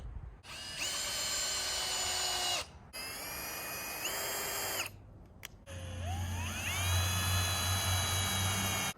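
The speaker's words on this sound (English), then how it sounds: "I just finished putting all the screws in each end of the boards" A power drill drives screws into wooden boards for a backyard enclosed garden build, heard as three long, loud whining bursts with pitch shifts as each screw seats, separated by short pauses, no talking.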